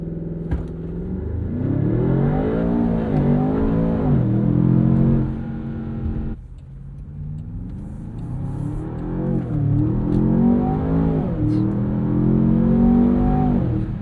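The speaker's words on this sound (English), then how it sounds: "if we do a launch control, the truck is going to assume we're off-road, so it's going to limit things a bit." A 2026 Land Rover Defender Octa with a 626 hp twin-turbo V8 launches hard, its engine note rising steeply through two long gear pulls with a brief dip at the shift, loud and close inside the cabin.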